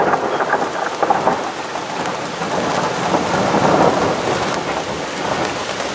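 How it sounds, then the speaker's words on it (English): An afternoon thunderstorm in Crestline, California, in August brings heavy, steady rain pounding surfaces while thunder rumbles and rolls underneath, loud and continuous with no voices. "Yes, thunder."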